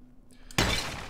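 A sudden loud shattering crash of pillars breaking in the video game Fallen Angel, like stone or glass breaking apart, bursts in after quiet and its debris rattle trails off.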